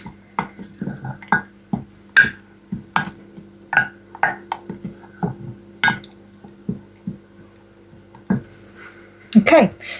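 Chopped wild garlic being stirred and mixed in a bowl, giving a series of irregular wet clicks, taps and squishy knocks, close and moderately loud, with a brief louder scrape near the end.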